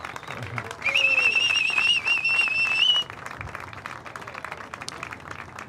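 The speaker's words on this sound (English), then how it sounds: "Give them a warm applause, guys" A crowd applauds and cheers a winning team at an event, with clapping and a high whistle carrying for a couple of seconds before the noise settles into a quieter murmur; voices mingle in the background.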